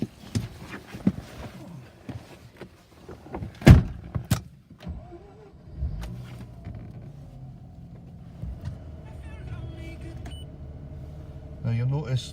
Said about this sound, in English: Now I'll go and start the car.